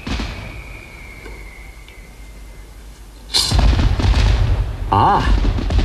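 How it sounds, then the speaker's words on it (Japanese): Quiet ambience with a faint tone, then a series of loud booming fireworks bursts with crackling tails, close and powerful. "あれは花火です。"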